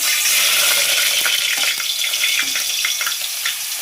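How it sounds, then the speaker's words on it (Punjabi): Peeled garlic cloves sizzle in hot oil, a steady bright crackling hiss that holds close and loud throughout, with small pops and spatters scattered through it. "ਜਿਹੜਾ ਆਪਣਾ ਦੂਸਰਾ ਤੇਲ ਪੀਲਾ ਲਿਆ ਜੀ ਉਹਦੇ ਵਿੱਚ ਆਪਾਂ ਸਾਫ਼ ਕਲੀਆਂ ਵੀ ਲਸਣ ਦੀਆਂ ਪਾਵਾਂਗੇ"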